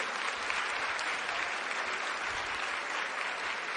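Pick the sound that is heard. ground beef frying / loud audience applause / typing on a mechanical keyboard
loud audience applause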